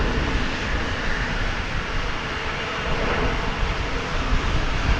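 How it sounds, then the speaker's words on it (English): Jet aircraft engine roar at DFW Airport, a loud, steady broadband rush that holds without a break, with no talking. "Look at all these planes, would you?"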